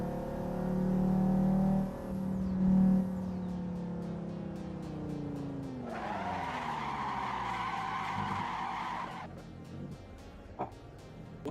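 Racing car drifting in the Assetto Corsa Evo video game, with a loud engine drone and tire squeal that rises and falls through a spin, easing off toward the end.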